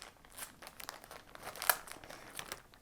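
Plastic packaging for embroidery floss crinkles and crackles faintly as a taped-shut package is picked open, with one sharper snap of tape near the middle.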